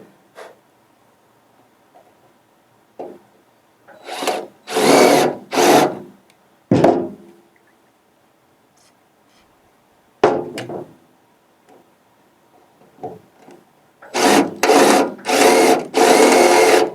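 A power drill enlarges a bolt hole during work on a Swisher trail mower, heard as several loud, separate bursts of whirring and grinding, some in quick clusters, with quiet pauses between them.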